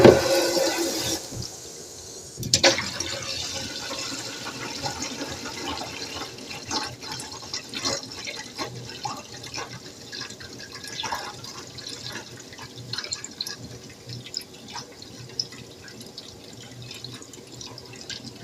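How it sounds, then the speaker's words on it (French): Clean water pours and splashes over sprouting seeds in a container, a steady rushing flow up close that settles into a softer, continuous trickle and gurgle. "On remet de l'eau propre."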